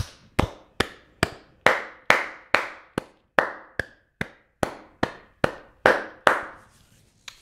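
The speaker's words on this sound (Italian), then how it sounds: "applauderei 10 secondi Diego Armando Maradona" A single person clapping hands at a steady, unhurried pace in an indoor room as an applause tribute to Diego Armando Maradona, about fourteen sharp claps, each ringing briefly before the next, fading out at the end.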